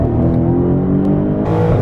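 A 2017 BMW 750i xDrive accelerating hard, its engine a loud, steady droning growl from the cabin that climbs in pitch before a brief shift-like change near the end.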